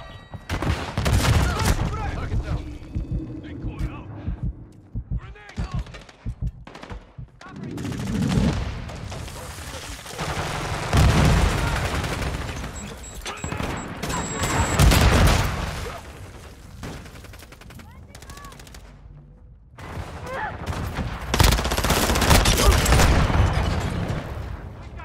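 Bursts of MP7 submachine gun hip fire in Call of Duty MW2 multiplayer on the Shoot House map, with loud rapid automatic volleys coming in several separate clusters, mixed with game effects and occasional talk.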